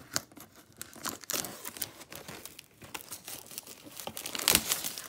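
Plastic wrapping on a Contenders football card mega box crinkles and tears in quick, irregular bursts, fairly quiet and close, with a sharper rip near the end.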